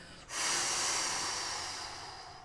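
A long, forceful exhale from pranayama breathing in a meditation practice: a close, breathy hiss that starts abruptly and slowly tapers off over two seconds.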